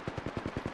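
Rapid video game gunfire rattles off in a quick burst of about eight evenly spaced shots, loud and close, with no talk over it.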